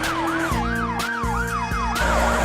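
A toy-style police car siren wails in a repeating rising and falling pattern, loud and continuous over a steady engine-like drone in a cartoon car city, with no talk.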